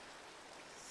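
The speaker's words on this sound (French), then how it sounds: "il commence à pleuvoir" Steady, faint rain hisses evenly in a Minecraft modpack world, a soft continuous wash with no distinct drops and no voices.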